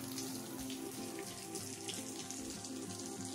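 Stream water flows under steps after a thunderstorm. The rush is steady, continuous and fairly close, with no voices.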